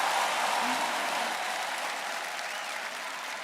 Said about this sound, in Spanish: ¿Quién está aplaudiendo ahí?